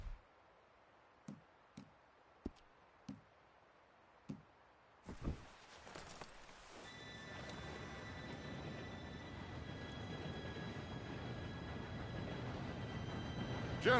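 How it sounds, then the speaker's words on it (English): Several sharp clicks or footsteps tick through quiet, then a PS4 video game train arrives with a sudden rumbling roar that swells and grows louder, joined by a faint high whine. "Train should be here any minute now."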